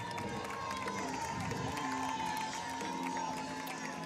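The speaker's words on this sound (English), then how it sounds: "Rocket fans are on their feet cheering on the Rockets." A high school football crowd in a stadium, Catholic High Rockets fans on their feet, cheering as a steady, distant roar with stadium music and scattered shouts underneath.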